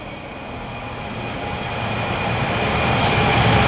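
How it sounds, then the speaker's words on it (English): A DB Cargo UK Class 66 diesel freight train approaches through Rugeley Trent Valley station on the West Coast Main Line, its steady rumble and wheel noise swelling gradually louder with a thin high squeal. "now approaching will be a DB Cargo UK Class 66 working 4 Oscar 21 from Trafford Park Euro Terminal to Salton West Docks berth 109"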